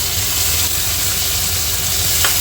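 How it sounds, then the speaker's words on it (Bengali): Chopped tomatoes hit hot oil with bay leaf and dried red chilli in a home kitchen, giving a steady, close, loud sizzle with broad hiss that runs unbroken throughout, no voices. "টমেটোটা দিয়ে দিলাম"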